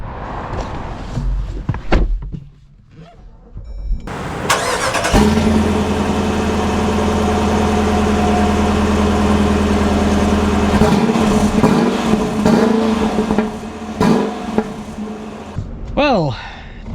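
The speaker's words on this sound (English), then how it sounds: "Let us set off and feel some V8 power" A Dodge Durango R/T V8 turns over and fires up, then settles into a steady, deep, loud idle heard from close by, with a few small blips near the end.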